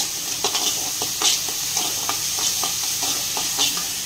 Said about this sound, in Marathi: कांदा मस्त फ्राय झाला आहे